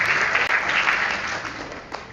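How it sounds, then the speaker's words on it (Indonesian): Brief burst of audience applause during a staff training session at a madrasah, many hands clapping together at close range, loud and even across two seconds. "tepuk tangan buat kita semuanya"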